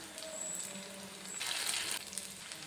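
Unniyappam fry in hot oil in a steady, close sizzle that swells briefly louder midway and then settles back.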